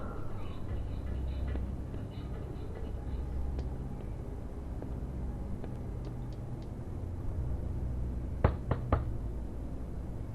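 Knocks on a hotel room door in The Wolf Among Us, a quick cluster of about three sharp raps near the end over a low steady background hum, with no talk.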